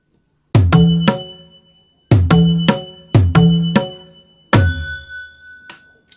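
A temple-style bell sound triggered on an Octapad electronic drum pad for an aarti patch, four sharp metallic strikes ringing out and decaying, the last one sustaining longest, clean and alone.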